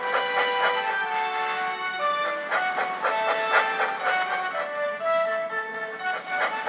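A steam train engine chugs along steadily and loudly with rhythmic puffs, layered over sustained tonal hissing and whistle-like tones that run throughout.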